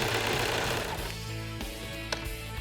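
A serger sewing machine stitches through a scrap of fabric, its motor whirring steadily and close up for under three seconds, with a brief click near the end.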